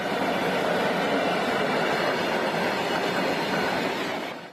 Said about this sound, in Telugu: సరుకు రవాణా రైలు కదిలినట్టు తెలుస్తోంది